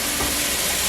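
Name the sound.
mixing rice with turmeric powder in a pan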